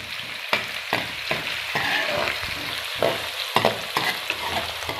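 Onions roast in hot oil in a pan for a village-style white lobia masala, a steady loud sizzle with repeated scraping clatters of a spoon stirring, close up and with no talking.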